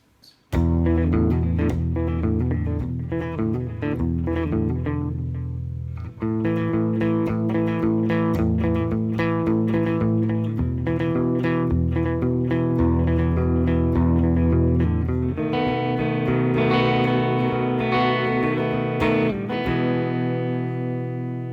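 A PRS S2 Standard 24 electric guitar plays chords and melodic runs with a bright, sustained clean tone, continuous and loud, without any vocals.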